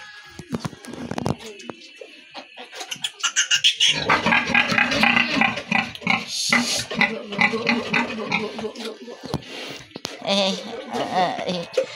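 Squealing grunts and oinks come from a sow and her newborn piglets in a farm pen, busy and irregular, mixed with people talking close by.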